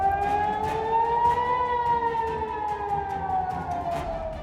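Air raid siren sounding in Israel, a loud sustained wail that rises slowly, holds, and then sags in pitch, heard alone over faint background noise.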